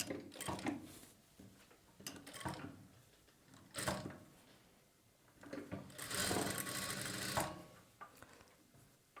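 A sewing machine stitches the neckline of a boat-neck blouse in several bursts of running, separated by short pauses, with the longest run near the end. The machine is close and loud, and nobody talks.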